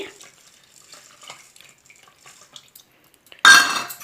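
Water splashes into washed rice mixed with buttermilk in a kitchen. Faint clinks come first over near silence, then a short, close, bright pour near the end.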